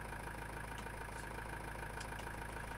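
A tractor engine in Farming Simulator 19 idles at a steady, quiet low rumble with a faint regular knock, unbroken and alone.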